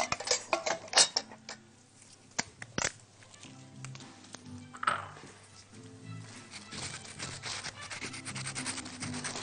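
Fresh ginger being grated on a kitchen grater, heard as faint, close rasping scrapes in quick irregular strokes with occasional metallic taps, with no talk.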